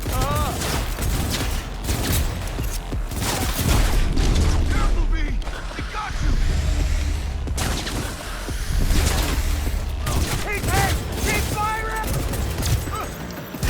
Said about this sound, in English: this is the pistol from Osaka's room.